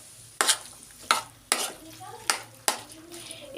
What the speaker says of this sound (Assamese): এইদৰে খুব ভালদৰে মই লৰাই লৈ